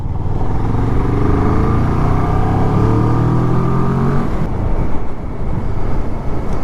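A 2014 Kawasaki ER6-N motorcycle accelerates hard at full throttle, its engine note climbing steeply through several gears with brief breaks at the shifts, loud and close with heavy wind noise.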